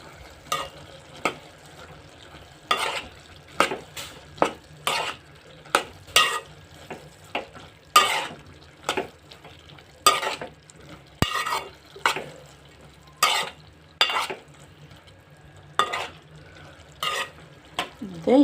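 Cauliflower curry seasoned with chilli powder being stirred in a pan, with a steady run of close, rhythmic scraping strokes roughly every second over a soft frying sizzle.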